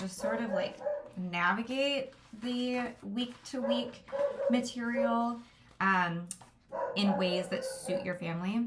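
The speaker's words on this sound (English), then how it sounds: "Sorry about my dog." A dog barks and yips repeatedly in the background of a home while someone talks steadily over it, the barking fairly close and persistent throughout.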